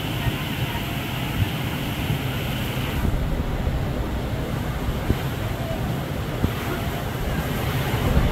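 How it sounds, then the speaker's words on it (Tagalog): Strong ocean waves crash along a shoreline under heavy, continuous wind gusts, a dense roaring wash of surf with steady buffeting wind noise close to the microphone. "Galit na galit ang alon."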